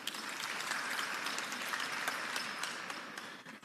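A meeting audience of colleagues gives a round of applause, a dense, steady wash of many hands clapping at moderate distance that holds for several seconds and then begins to thin out.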